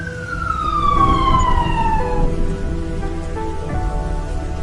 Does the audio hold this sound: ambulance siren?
yes